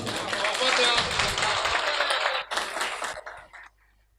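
Audience applause at a mushaira poetry gathering in Rudauli, Ayodhya: a dense wash of clapping that stays steady for over two seconds, dips, swells briefly again and then dies away into near silence.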